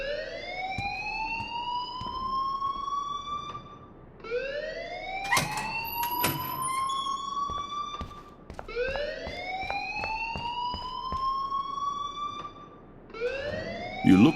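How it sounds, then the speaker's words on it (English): An alarm rings in the Life Is Strange video game, repeated rising electronic whoops in bursts of about four seconds separated by short gaps, loud and steady, with a few sharp clicks between them. "please turn off that alarm since that's your job"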